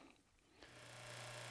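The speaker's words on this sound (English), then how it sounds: "you can probably hear the vacuum pump running in the background now" A vacuum pump for a DIY nuclear fusor spins up midway and then runs as a steady droning hum with a sustained low tone, faint and in the background.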